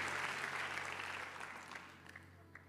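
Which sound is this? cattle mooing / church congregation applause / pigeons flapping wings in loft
church congregation applause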